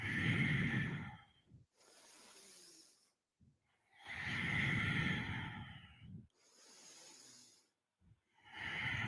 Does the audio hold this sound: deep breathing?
yes